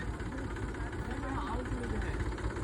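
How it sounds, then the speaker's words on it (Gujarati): A farm tractor's engine idling nearby in a steady, low, rumbling drone that holds constant throughout. "અમારા માલિકનું બીજું ટ્રેક્ટર આવી ગયું છે"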